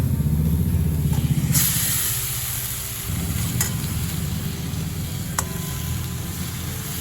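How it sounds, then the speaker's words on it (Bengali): Boiled taro leaves are stirred with lightly fried coconut in a pan, giving a soft sizzle with scraping and stirring noises up close and a few sharp clinks. "নারকেলের সাথে দেখুন শাকটা খুব ভালো করে মিশিয়ে দিচ্ছি"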